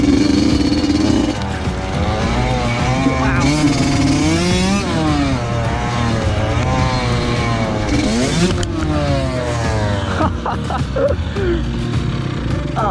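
A motocross dirt bike runs a rough, rutted track, its engine close and loud, revving up and down in sweeping climbs and dips with gear changes throughout, with no talk over it.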